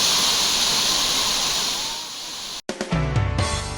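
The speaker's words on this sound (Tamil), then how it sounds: "கனமழை காரணமாக குற்றாலம் அருவியில் வெள்ளப்பெருக்கு ஏற்பட்டது" Courtallam waterfall in flood after heavy rain, a loud steady roar of rushing water that runs continuously, then cuts off abruptly and gives way to unrelated tonal sounds near the end.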